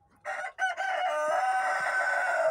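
A rooster crows one long, loud, close call after a couple of short opening notes, ringing clearly on its own.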